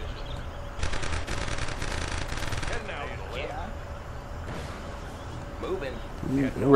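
Rapid bursts of infantry machine-gun fire and scattered gunshots from Command & Conquer Generals Zero Hour battle play in quick succession, loud and dense at first, then thinner sporadic shots under faint background talk.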